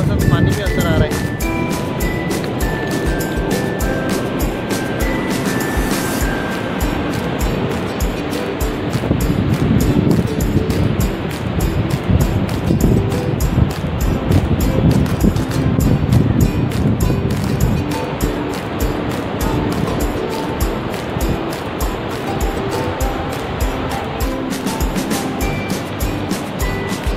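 Ocean waves washing onto an Andaman beach, a steady loud roar of surf with wind buffeting the microphone throughout while someone talks over it.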